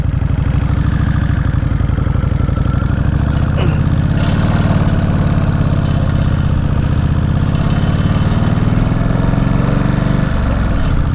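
A 2003 Kawasaki Vulcan VN1600 Classic motorcycle idles close by, with a loud, steady low rumble and a throbbing engine pulse that runs without a break.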